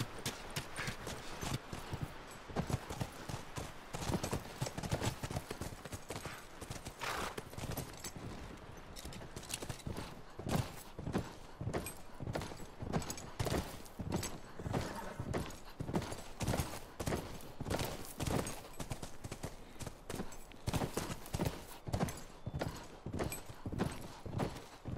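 Horse hooves clip-clop steadily and loudly in The Last of Us video game, a continuous rhythmic stream of close hoofbeats at a walking-to-trotting pace for the whole stretch.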